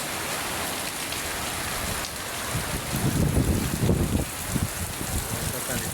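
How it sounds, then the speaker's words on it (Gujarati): Heavy rain pours steadily during a storm in a village, a dense continuous hiss with a rougher, louder stretch of splashing and wind midway through, with no voices. "બાકી વાવાઝોડું વરસાદ જોરદાર ચાલુ છે."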